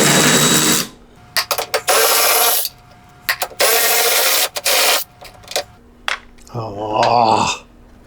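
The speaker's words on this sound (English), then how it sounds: "Time to remove the filler neck, and these are 8mm bolts." Bursts of a power tool or ratchet driving out 8mm bolts from the gas tank filler neck of a Porsche 914, several short whirring runs with pauses between them, close and loud, with a brief voice near the end.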